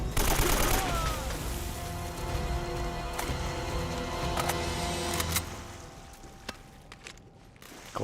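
Shotgun-wielding enemies in Uncharted: Drake's Fortune open fire in a loud burst of gunshots over game music, the shots thinning into scattered single blasts before trailing off.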